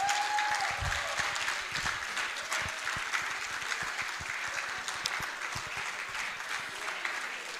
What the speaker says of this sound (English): Can you clap with some energy?